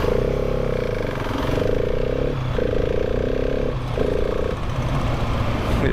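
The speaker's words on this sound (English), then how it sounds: "It sounds nice when you rev it up." A Husqvarna 701 Supermoto single-cylinder engine revving loudly up close, several rising blips with brief dips between them over a constant rough idle, with no voices.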